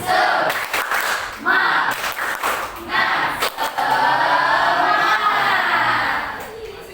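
A group of students in a physical education badminton class claps a rhythmic cheer, sharp bursts of clapping that give way to loud, sustained crowd shouting and cheering close by.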